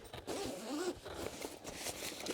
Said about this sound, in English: undo the zip, pull back the top cover